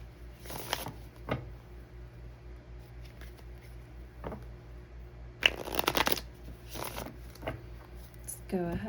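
Tarot cards riffle and slap together in a few short, close shuffling bursts with soft handling noises in between, without any speech.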